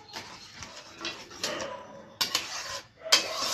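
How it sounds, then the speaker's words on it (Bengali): Sugar jam mixture stirred in a pan over a low flame, with repeated scraping and clinking of a metal spoon against the pan in uneven bursts, close and moderately loud. "চিনিটা যতক্ষণ না গলে এটা শুকনো শুকনো হয়ে যাবে ততক্ষণ এটা নাড়িয়ে যাবে"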